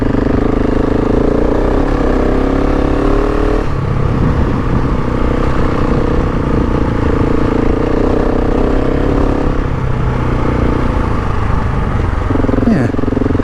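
A KTM 690 Enduro R dual-sport motorcycle's single-cylinder engine runs loud and close throughout, its steady drone shifting pitch as it revs up and settles back a few times.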